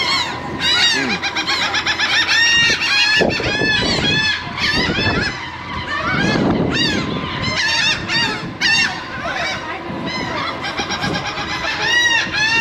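A goose-like bird honks loudly and repeatedly up close at an outdoor fries stand, insistent nasal calls in quick bursts with brief pauses, no talking.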